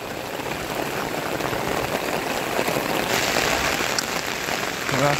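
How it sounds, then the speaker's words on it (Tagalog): Heavy rain pouring down steadily during a flood, a dense loud hiss filling the whole stretch, with no talk over it. "Lakas ang ulan."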